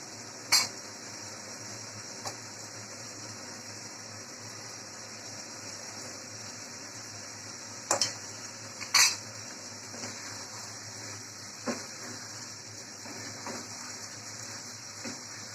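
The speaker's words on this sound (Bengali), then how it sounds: "আরো কিছুক্ষণ কষিয়ে নিচ্ছে" Minced meat, potatoes and peas are stirred and sautéed in a pot. A low, steady cooking hiss runs underneath, while a utensil gives sharp metallic scrapes and clinks against the pot at scattered moments.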